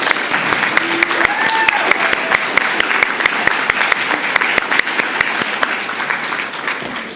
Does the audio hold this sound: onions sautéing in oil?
no